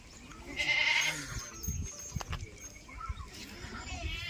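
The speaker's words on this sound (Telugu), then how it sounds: "మేకలు అయితే ఫుల్ ఉన్నాయి." Goats bleat at a Gutti Koya settlement in Vootavagu, one strained, wavering cry standing out early, then fainter bleats and livestock shuffling amid low background murmurs.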